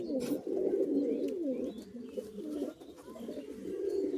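Pigeons coo steadily in a loft, a continuous chorus of soft, rolling throaty calls from several birds close by, with no talk.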